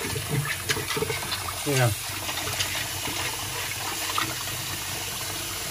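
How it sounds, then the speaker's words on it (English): Old computer plastic parts are rinsed under running water, a steady splashing stream with gurgles beneath voices talking over it. "So he's just rinsing them."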